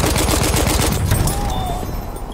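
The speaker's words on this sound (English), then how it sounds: "There! Enemy machine gun!" Enemy machine gun fire in the video game Battlefield 1 rattles in a rapid, loud burst of repeated shots that fades out after about a second, followed by quieter battlefield noise.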